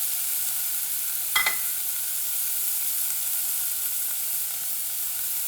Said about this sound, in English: And I'm going to saute that